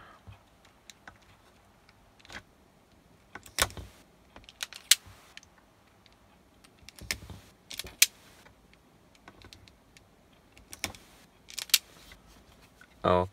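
Wire cutters and strippers snip and strip wires while a 30-year-old four-way portable socket is rewired. Sharp, isolated clicks and snips come at irregular intervals over quiet handling noise.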